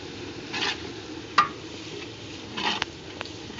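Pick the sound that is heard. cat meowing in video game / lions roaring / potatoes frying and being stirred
potatoes frying and being stirred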